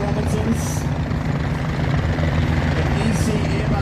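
Two Robinson R44 helicopters arrive at the Warbirds over Wanaka air show, their steady rotor thrum and engine drone loud and continuous with no break.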